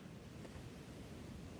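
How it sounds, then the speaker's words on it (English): Faint waves crash on a beach shore, a steady low wash of surf mixed with wind noise, continuous and distant throughout with no voices. "faint sound of waves crashing in the background"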